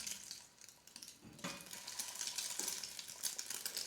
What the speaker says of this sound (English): So I got the oil heated up here in the pan, so we'll go ahead and get these transferred in.